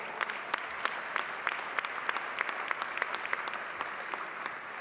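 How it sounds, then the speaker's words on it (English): A union convention crowd at the CUPE National Convention applauds, steady dense clapping from a large hall audience, slightly distant and even throughout with no voices over it. "So give yourselves a round of applause."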